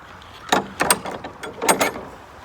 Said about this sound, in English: If I can close this door.